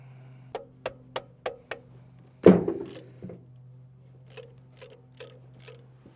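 Bolts coming off a truck engine bracket on a scrap truck build: a run of sharp metallic ratchet clicks, then a louder clatter and a few lighter rattles, close by with no talk.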